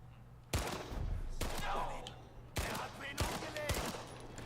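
Gunfire in Indiana Jones and the Great Circle, with bullets striking a character: five loud, sharp shots at irregular intervals, each with a short crack and a brief tail. A faint voice-like cry rises between them.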